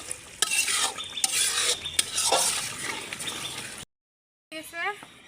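Meat being sautéed for kosha in a pan, a spatula scraping and clattering repeatedly over a crackling sizzle, close and fairly loud; a short silent gap follows, then a brief burst of talk.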